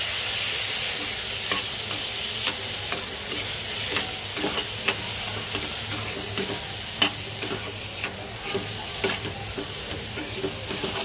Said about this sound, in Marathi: तेलामध्ये हे टाकून फ्राय करून घ्यायचं